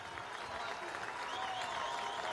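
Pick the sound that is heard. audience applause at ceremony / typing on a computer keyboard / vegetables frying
audience applause at ceremony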